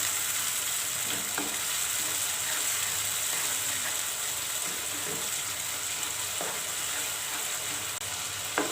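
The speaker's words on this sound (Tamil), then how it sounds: "தக்காளியெல்லாம் நல்லா வதங்கியிருக்கு, எண்ணெய் பிரிஞ்சு வந்திருக்கு" Ground tomato and coriander paste sautés in hot oil for a Tamil vendakkai puli kuzhambu, giving a steady, close sizzle with occasional stirring scrapes and no talking.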